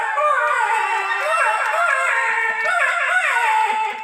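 A performer's voice mimics a baby crying on a moving train, sustained wavering wails rising and falling continuously, loud and close, with no other talk.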